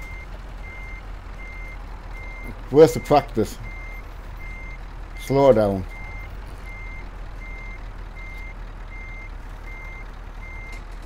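A simulated articulated truck reverses in Euro Truck Simulator 2, a thin evenly spaced reversing beep repeating steadily over a quiet engine hum while someone speaks briefly twice.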